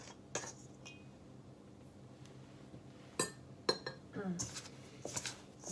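A knife chops butter in a bowl for cheese scones, giving scattered clinks and taps of metal against the bowl, a few louder knocks near the end, heard close in a quiet room.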